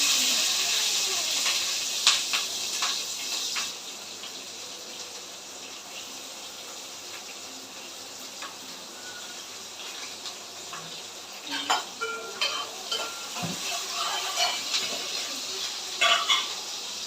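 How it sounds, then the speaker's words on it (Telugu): Chopped onions fry in hot oil with tempering seeds in a home kitchen pan, giving a continuous soft sizzle with occasional stirring scrapes and clinks. "ఉల్లిపాయలు కూడా ఫ్రై చేసుకుంటాను."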